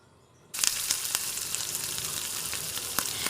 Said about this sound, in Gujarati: અડધી ચમચી હિંગ અને આ બધો વઘાર આપણે ખીરામાં એડ કરવાનો છે.